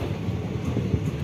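A passenger train running about two and a half hours late between Hansdiha and Godda in India, heard from on board as a steady low rumble with a faint rhythmic clatter, continuous and moderately loud.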